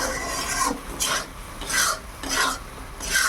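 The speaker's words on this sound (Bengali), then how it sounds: "দেখুন নাড়তে নাড়তে খুব টাইট হয়ে যাচ্ছে, কড়াই লেগেও যাচ্ছে" Mango sandesh mixture thickening in a wok, stirred in repeated rasping scrapes about every half second, close and steady.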